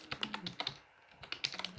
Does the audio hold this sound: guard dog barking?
no